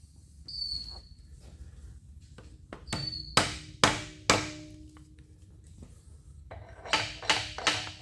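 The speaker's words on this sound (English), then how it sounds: "let me just get my copper hammer" A copper hammer tapping a machined splined shaft in a workshop: sharp metallic knocks, a few spaced blows and then a quick cluster near the end, over a faint background hum.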